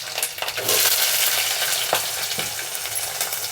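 Chopped onion and green chilli pieces fry in hot oil for pumpkin pulusu with gram flour, a loud continuous sizzle with crackling bursts and a stirring scrape, close up and without speech.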